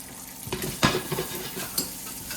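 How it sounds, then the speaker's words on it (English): Pasta stirred with metal tongs in a pot, giving a few soft clinks and swishes over a faint background hiss. "Another thing I like to do is stir my pasta with my tongs."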